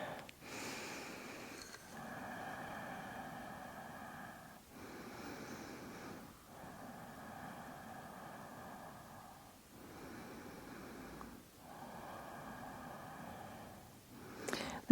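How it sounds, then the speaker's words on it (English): Slow, deliberate breathing during a yoga hip stretch, long airy inhales and exhales repeating in a calm rhythm, soft and close with no talking. "find a few intentional breaths here"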